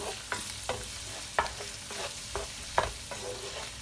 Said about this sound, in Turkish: Şimdi baharatlarını ilave ediyorum. Şöyle güzelce karıştıralım.